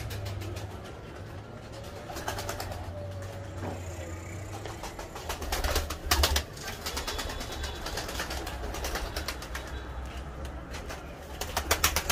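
Racing pigeons released from their coop at a Mardin pigeon-keeping meet, with wing flaps and faint cooing over steady outdoor background noise and a passing engine, a few louder bursts midway and at the end.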